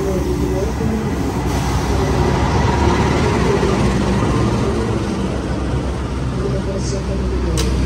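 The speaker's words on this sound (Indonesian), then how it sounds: "Kereta api Argo Bromo Anggrek tujuan stasiun Surabaya Satu." Constant low rumble of the Argo Bromo Anggrek executive passenger train and station bustle in Indonesia, loud and steady, while an announcer's voice speaks over the noise.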